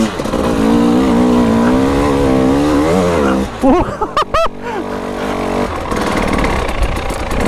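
Husqvarna TE300i two-stroke dirt bike ridden hard, a loud close engine note that rises, then blips and revs in quick bursts before settling back into steady throttle.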